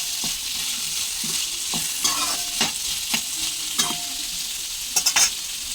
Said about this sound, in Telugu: మిక్స్ చేసుకుని వాటర్ అంతా పొట్లకాయ ముక్కల్లో వాటర్ అంతా డ్రై అయిపోవాలి అలా ఫ్రై చేసుకున్నాము